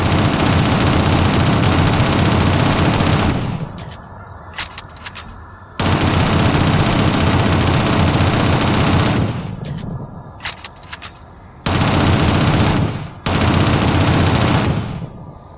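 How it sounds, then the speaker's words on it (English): Sustained SMG fire in the Shadowrun game rattles in long, loud continuous bursts, each broken by short pauses with a few quieter clicks and shots. "Use your SMG to clear it now."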